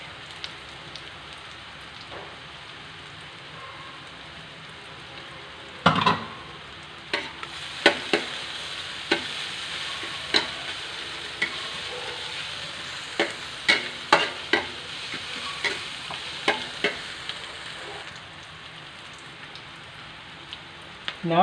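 Onion and garlic sautéing in a pan, a steady soft sizzle with sharp stirring clicks and scrapes scattered through the middle, close and clear with no talk.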